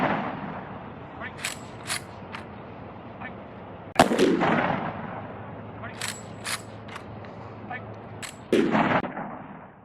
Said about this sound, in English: Firing party! Fire 3 volley!